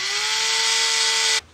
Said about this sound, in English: I'm putting the rest of the screws in, drilling one hole, putting the screw in as I go.